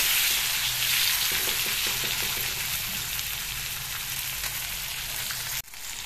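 Leucas aspera greens with turmeric fry in a pan, a loud continuous bright sizzle heard up close with faint stirring scrapes, ending in a brief bump, with no talking.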